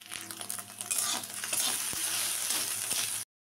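Boiled Maggi noodles stir-fried in a pan give a steady, close sizzle with clinks of stirring running throughout, then the sound cuts off abruptly near the end.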